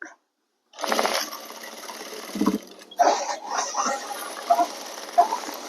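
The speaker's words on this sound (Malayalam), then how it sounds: "ഡബിൾ സ്റ്റിച്ച് അടിക്കുക" A sewing machine stitches a shirt seam, running in short bursts of rapid mechanical chatter, stopping and starting with brief pauses. It sounds close and fairly clear, and no one talks over it.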